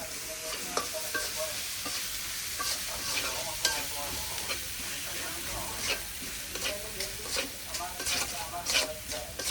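Egg and garden tomato curry fries in a pan while being stirred, a steady close sizzle with repeated scraping and clinking of the spoon throughout, with no talk.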